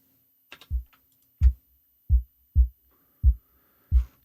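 Six deep, punchy kick drum thumps, short and tightly gated by an envelope shaper, land at an uneven pace with near silence between them and a faint click at the start.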